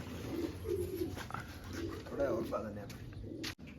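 Pigeons coo in low, soft bursts close by while someone talks over them.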